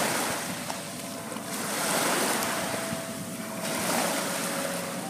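Ocean surf heard while wading knee deep into the sea, a continuous wash of waves rising and falling in two swells, with gusty wind noise on the microphone and no talk.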